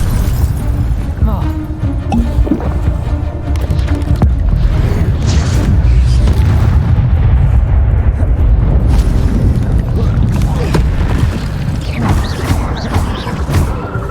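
Spell blasts and booming magical explosions from Hogwarts Legacy combat, loud and continuous with rumbling bursts over about fourteen seconds, under a voice shouting incantations.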